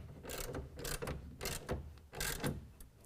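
A clamp on a BAK Revolver X2 tonneau cover is cranked tight against the bed rail of a 2014 Chevy Silverado 1500, giving repeated close ratcheting bursts of metallic clicks with short pauses between turns.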